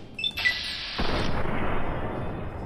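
A heavy gunshot in Fallout: New Vegas, a single loud blast preceded by faint high beeps and followed by a long, rumbling, noisy tail that slowly fades.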